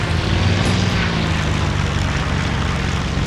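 Propeller aircraft engine in the IL-2 Sturmovik flight game runs loud and close, a steady droning roar with a deep throbbing rumble that holds at full volume, no voices over it.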